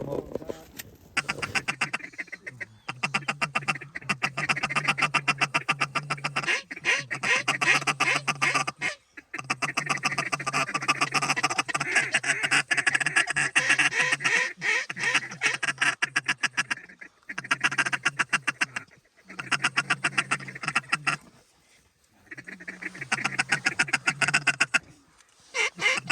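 Many ducks quack loudly and continuously in a dry field during a North Dakota waterfowl hunt, a dense overlapping chorus with brief gaps, with a few shouts from hunters now and then.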